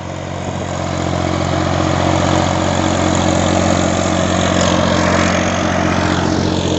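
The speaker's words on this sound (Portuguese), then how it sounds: "Trator aí arando." A 2021 Valtra A 950R tractor pulling an intermediate disc harrow through soil: a loud, steady diesel engine drone held throughout, close and unbroken, with no talking.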